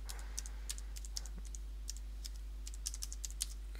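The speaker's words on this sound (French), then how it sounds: "on va taper le mot de passe" A password is typed on a computer keyboard on a Manjaro Linux desktop running XFCE. Sparse, crisp keystrokes come in small bursts, close and fairly quiet, over a constant low electrical hum.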